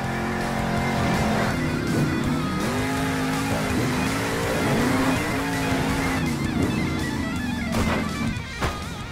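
Monster trucks from Monster Jam Steel Titans tear around a canyon arena, a loud continuous engine roar with shifting revs, pitch swoops and a rough crash-like burst near the end, with no talking.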